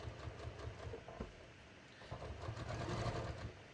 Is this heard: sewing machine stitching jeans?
yes